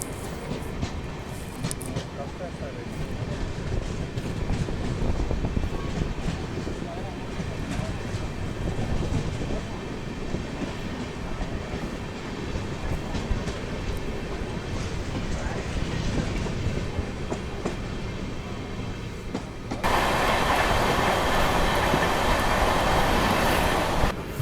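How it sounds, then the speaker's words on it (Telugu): Madurai–Chandigarh express passing near Naidupeta railway station, a continuous loud rumble with wheel clatter that swells near the end, with a voice talking over it. "మదురై నుండి చండీగఢ్ వెళ్ళే ఎక్స్ప్రెస్ నాయుడుపేట రైల్వే స్టేషన్ దగ్గర మీట్ అవ్వడం జరిగింది."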